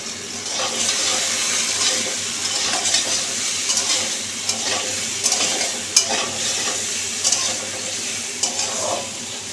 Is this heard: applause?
no